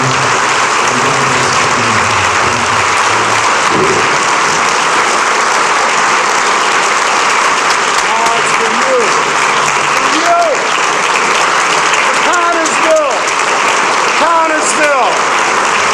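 Sustained audience applause at a 2013 Chamber of Commerce awards event in Connersville, a dense, steady wash of clapping with scattered cheers and whistles rising near the end.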